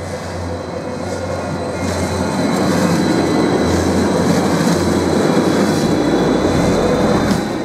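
A Stadler-built DT8.14 series Stuttgart Stadtbahn tram rolls past loudly with a steady low rumble and whir of wheels on rail, building slightly and holding for several seconds, with no talk.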